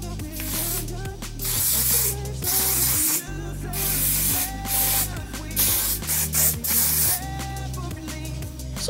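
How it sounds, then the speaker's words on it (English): Hairspray hisses from an aerosol can onto straightened natural hair in repeated short and long bursts, close and loud, with rattling of the can between sprays. "And then I go ahead and spray it with hairspray."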